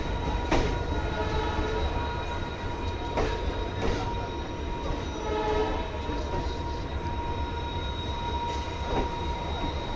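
Kathgodam–Delhi Uttaranchal Sampark Kranti Express running on Indian rails near Lal Kuan Junction, a loud continuous rumble of wheels with rhythmic rail-joint clacks, steady tonal squealing and a horn, recorded from on board.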